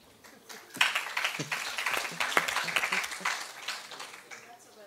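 An audience at a company seminar claps in a brief burst of applause, starting quietly, swelling to dense clapping and tapering off over a few seconds.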